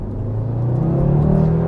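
A 2018 Audi inline five-cylinder engine pulls up through the revs, a warbling, rising drone that grows steadily louder over under two seconds, heard from inside the car with no talk.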